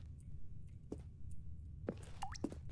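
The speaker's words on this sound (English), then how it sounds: "I heard a drop of water" Single water drops falling from a leak inside a quiet office building in The Stanley Parable, a few separate plinks spaced apart over a low steady hum, with no talking.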